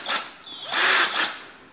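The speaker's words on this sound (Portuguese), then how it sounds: "Aí vou furar aqui, que a moto já não vem furada, né?" A cordless drill bores into a bracket on a Suzuki GSX-R750 motorcycle, giving a few short, close whining bursts as the trigger is squeezed and released.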